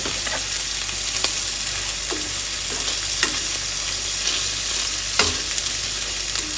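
Beef, salsa and rice sizzle loudly in a pan, a dense constant hiss broken by repeated scraping strokes of stirring at irregular intervals, with no talking.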